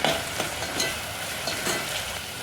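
A spoon stirs turmeric, salt and coriander-cumin powder into onions, tomatoes and chillies frying in a pan, giving a steady soft sizzle with scraping strokes at short intervals.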